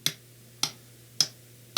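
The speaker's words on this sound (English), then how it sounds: "that's me clapping" Four sharp, evenly spaced hand claps played back from a home music recording, each a crisp isolated transient with a quick decay and a faint steady hum beneath.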